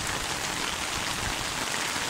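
Heavy rain pours outdoors, a dense, loud, even hiss of drops striking surfaces nearby with no pauses and no voices.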